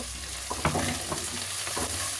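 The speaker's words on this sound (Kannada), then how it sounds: "ಕೊತ್ತಂಬರಿ ಸೊಪ್ಪು, ಗೋಡಂಬಿ, 1 ಟೊಮೆಟೊ ಎಲ್ಲನೂ ಸೇರಿಸ್ಬಿಟ್ಟು ಫ್ರೈ ಮಾಡ್ಕೊಳ್ಳಿ" Coriander leaves, cashews and tomato frying in a pan, a steady close sizzle with a few scraping stirs of a spoon against the metal, no voices.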